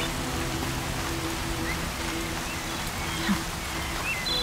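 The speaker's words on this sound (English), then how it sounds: "Rain's not so bad." Steady rain in the video game Horizon Zero Dawn, a continuous soft hiss of falling drops with a low background hum, even and unbroken throughout.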